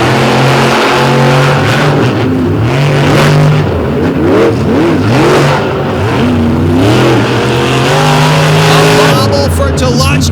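Monster trucks race on the Lake Erie Speedway tarmac at night, loud engines revving and surging with rising and falling pitch, close and continuous, with a commentator's voice running over the roar.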